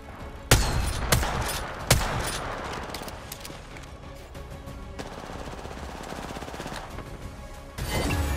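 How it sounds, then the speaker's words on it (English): Repeater rifle fire in the video game Apex Legends: several sharp, loud shots in the first two seconds, then a dense, noisy stretch of game action, with a heavier burst of fire near the end. "The repeater is a good gun."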